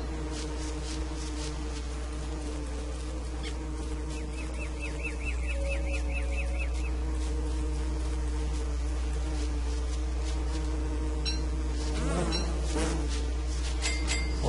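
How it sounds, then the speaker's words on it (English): Bees buzzing in the video game Don't Starve, a soft rising and falling insect drone layered over a steady game background tone, with brief chirpy effects near the end. "That's actually the last bee I needed"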